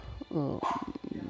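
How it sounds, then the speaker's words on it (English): A dog barks a few times in quick succession, fairly close, overlapping with someone talking. "dogs barking in the background"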